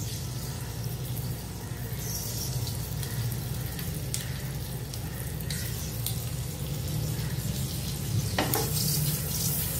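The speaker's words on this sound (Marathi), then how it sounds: "आता यामध्ये आपण आपली अंडी फ्राय करायला ठेवूया" Eggs frying in butter in a pan give a steady, continuous sizzle with faint clinks and scraping on top, close and fairly loud with no talking.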